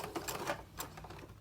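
Sewing machine back stitching a seam on a stuffed fabric ear headband, a quick run of soft rhythmic mechanical clicks and taps, faint and close with no talk.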